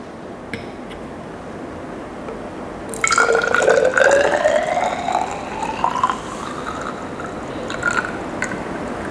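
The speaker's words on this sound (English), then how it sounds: "using a 50 cm3 measuring cylinder, you measure around 50 cm3 of your Fa1 solution." Fa1 solution pours into a 50 cm3 glass measuring cylinder, beginning after a quiet start as a steady trickling fill with a rising liquid tone, then tapering to drips near the end.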